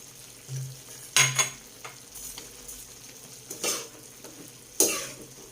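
Onion frying in a pan for chicken adobo with saba, a low sizzle punctuated by a few sharp spatula scrapes and clinks against the pan.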